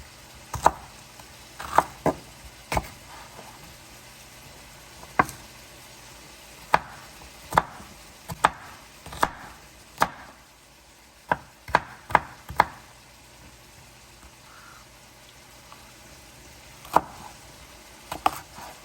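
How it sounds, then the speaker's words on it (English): A knife chops food for a cheesy baked spaghetti on a cutting board, producing sharp, irregular thuds in small clusters with pauses between them, close and clear with no talk. "I'm going to go ahead and chop this up."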